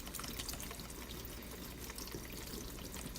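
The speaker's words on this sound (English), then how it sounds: "So I'm just going to do a quick rinse of all this excess dye here." Water runs steadily over dye-soaked fabric treated with sodium carbonate, a continuous close splashing and trickling rinse with no pauses and no talking.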